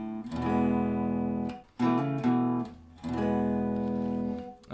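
Guitar riff: loud, close strummed and fretted chord phrases in three bursts separated by short pauses, rich and ringing, with no talking.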